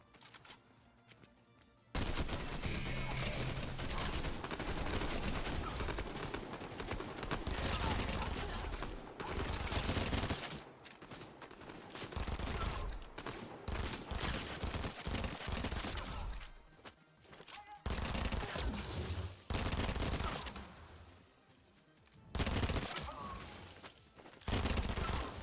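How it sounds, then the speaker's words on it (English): Dense, sustained gunfire rattles through a Fortnite Battle Royale match, heavy automatic bursts and rapid shots almost continuous for over twenty seconds, loud and close with brief lulls. "Oh my god, what are they shooting with?"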